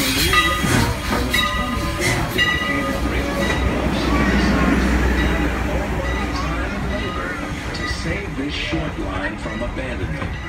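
Strasburg Rail Road steam train rumbling steadily nearby with rail clatter and periodic hissing bursts, crowd chatter in the background.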